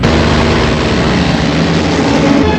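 A loud, steady roar of rotor and engine noise, close and continuous, with a low throbbing underneath.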